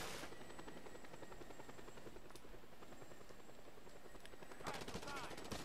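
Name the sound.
helicopter in the video game Just Cause 2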